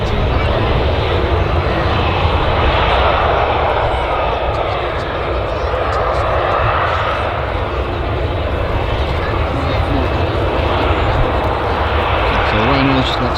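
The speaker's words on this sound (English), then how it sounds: "That's an intersection departure there for the Ryanair." A Ryanair jet on an intersection departure at Manchester Airport, empty of passengers, roars steadily as it takes off, a loud broadband rumble holding for the whole stretch with little change.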